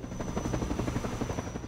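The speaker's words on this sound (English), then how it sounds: "Helicopter?" A helicopter in Half-Life 2 gives a steady, fast rotor thump with a continuous engine whine, moderately loud throughout a short stretch with no talking.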